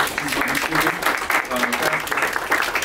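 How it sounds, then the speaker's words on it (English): Crowd at a National Day of Reparations panel gives a continuous round of applause for a panelist, dense clapping with voices and talk mixed in throughout. "Can y'all give her a round of applause?"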